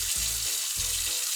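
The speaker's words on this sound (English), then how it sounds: "So turn on the tap, wait until it fills up with warm water." Tap water running into a sink as it fills with warm water, a steady hissy splashing stream with two low bumps, no voices.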